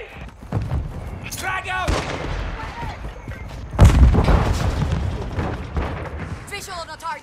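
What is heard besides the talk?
mortar strike explosions in video game Call of Duty: Modern Warfare II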